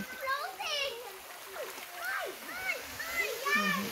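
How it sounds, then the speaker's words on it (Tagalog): Splashing water as feet are washed in a small, cold river, with trickling stream sounds throughout and children's voices chattering and calling over the top. "Nagugas tayo ng paa dito sa ilog na maliit."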